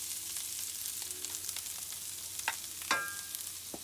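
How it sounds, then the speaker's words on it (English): Onions frying in a generous amount of olive oil in a pan, a steady close sizzle with a few clinks and stirring scrapes, no voices over it. "And we're going to add our onions in real quick."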